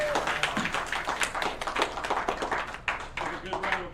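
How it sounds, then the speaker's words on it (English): Audience applauding at the close of a snooker tournament at a billiards club, steady scattered hand clapping across a small crowd with voices talking underneath. "Give a good round of applause."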